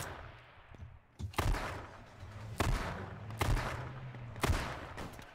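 Repeated gunfire from a car in the H1Z1 battle royale game, several loud sharp bursts spaced about a second apart over a low engine rumble, with no talking.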